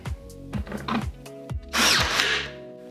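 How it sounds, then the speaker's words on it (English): A power tool tacks wooden pieces of a side table together, firing several short sharp bursts followed by one longer, louder burst, close and clear with no talking. "Now I'm gonna tack it."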